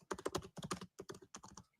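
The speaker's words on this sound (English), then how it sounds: "Hear me typing?" Rapid typing on a computer keyboard, close and clear, with dense clusters of key clicks broken by short pauses and no voices over it.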